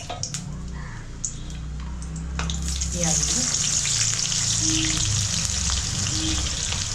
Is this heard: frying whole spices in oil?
yes